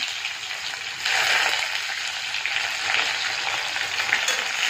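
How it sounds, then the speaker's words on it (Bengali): Panch phoron and chopped onions fry in oil for a lentil dish, a dense steady close sizzle that swells slightly after the first second and continues without speech. "পাঁচফোড়নটা দিয়ে দিলাম, কুচানো পেঁয়াজগুলো দিয়ে দিলাম।"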